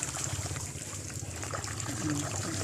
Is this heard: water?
yes